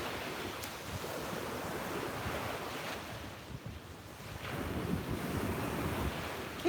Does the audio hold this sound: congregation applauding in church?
no